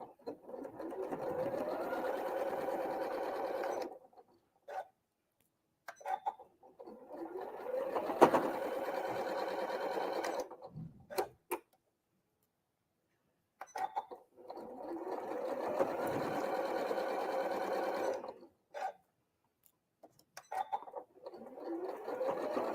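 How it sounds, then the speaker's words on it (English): A sewing machine runs a quarter-inch seam on a quilt block in several long steady bursts separated by pauses, close and even, with no voices. "once you've got it pinned, you can sew that 1/4 inch down"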